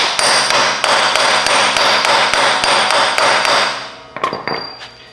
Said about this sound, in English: I just tapped it on nicely with a socket.